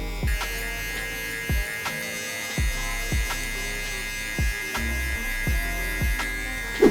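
A hair clipper fitted with a 1.5 guard buzzes steadily while cutting hair during a low taper barber cut, with the pitch shifting at regular intervals as each pass starts and ends. No voices.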